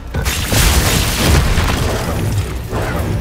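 A Bombarda spell blast in Hogwarts Legacy, a loud sustained booming explosion with dense rumble that swells and holds for a few seconds without speech.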